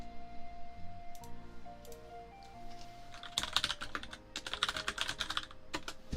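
Rapid typing on a computer keyboard, starting with sparse clicks over a faint hum, then breaking into dense, close bursts of keystrokes.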